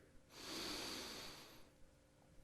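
A person slowly exhales through the nose during a core-strengthening yoga workout, one soft, breathy rush of air lasting about a second in an otherwise quiet room.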